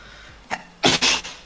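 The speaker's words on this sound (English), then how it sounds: "Sneezing and saving." Sneezes from a player during a Rocket League gaming session: a small burst, then two loud, sharp sneezes in quick succession, close to the mic with no talk.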